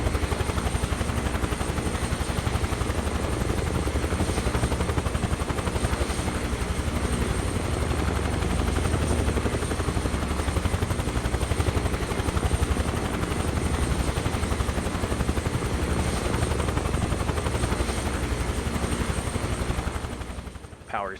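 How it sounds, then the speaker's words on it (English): A helicopter in Microsoft Flight Simulator 2024 descends onto an oil rig landing pad during a hurricane evacuation, its rotor and engine drone loud and constant throughout, ending abruptly at touchdown. "We bring the aircraft down slowly and set it down on the pad."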